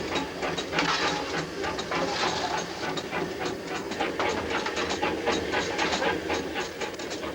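A coal-fired steam locomotive is running with a steady, rhythmic chuffing and clatter that pulses evenly and fairly loud throughout, with no voices over it.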